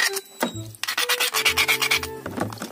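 Imbaw shellfish being scrubbed clean outdoors, shells rasping and grinding against each other in steady repeated strokes, close and fairly loud with brief pauses between bursts.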